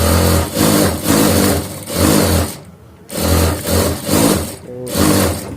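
A sewing machine single-stitches a shirt seam in loud, close bursts of fast whirring motor and needle chatter, several runs of about a second each broken by brief stops.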